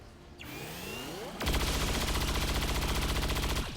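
Automatic gunfire in XCOM 2 rattles out as a loud, dense burst of rapid shots lasting a couple of seconds, preceded by softer game ambience and a rising whoosh, with no talking.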